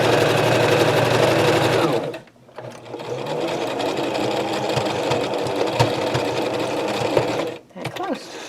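A sewing machine runs steadily while stitching an elastic-waist skirt, a continuous close mechanical whir with two brief pauses, and a voice talks over parts of it.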